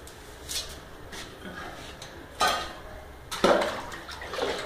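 Water splashes and pours during a dog's bath, a few separate gushes and spills over a quiet background, with soft handling noises between them and no speech.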